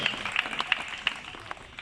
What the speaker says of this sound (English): how about a round of applause to Berlin and Midnight, our Malay fish owl